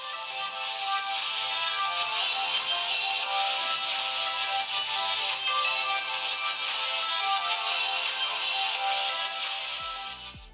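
A ringtone plays loudly and steadily through the bottom-mounted loudspeaker of a Blackview P2 phone, a bright, somewhat flat melody that runs continuously for about ten seconds before cutting off.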